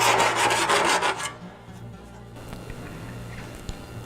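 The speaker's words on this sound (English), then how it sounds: "A few passes across the corner and you get these little curly bits of metal off" Hand metal file rasping across the rusty corner of a car body panel, a loud scraping stroke up close followed by quieter rubbing and light contact.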